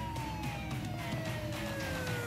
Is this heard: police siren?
yes